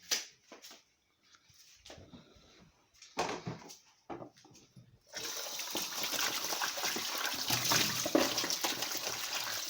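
Two Golden Delicious apples are washed under a running tap: a few faint clunks and handling noises at first, then a steady, broad rush of flowing water for the second half.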